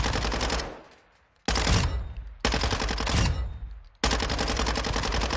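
Automatic rifle bursts from the shooter Warzone 2, fired in three loud sustained sprays with short pauses between, no talking.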